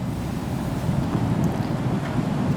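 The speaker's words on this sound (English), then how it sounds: "Oh, it's pretty windy, but not much." Wind sweeping across a frozen lake in the video game Star Citizen, a continuous low roaring rush with steady buffeting and no other sounds.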